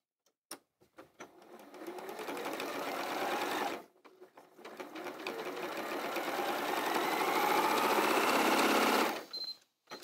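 A sewing machine stitches a kimono quilt block in two steady runs, close and loud, the motor whirring continuously with a brief pause between runs and a few clicks at start and end.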